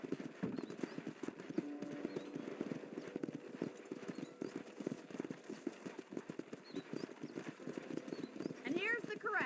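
Horse hooves clip-clop in a quick, irregular rhythm, close by, at a ranch in the video game Red Dead Redemption, with a short whinny near the end and a voice talking over it.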